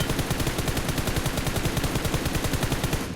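Rapid automatic gunfire in a battle royale video game, a dense stream of sharp, evenly spaced shots firing nonstop at close range and high volume for about three seconds, with no talk.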